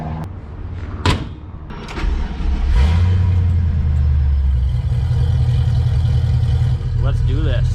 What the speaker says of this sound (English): That is an LS2 6-liter V8.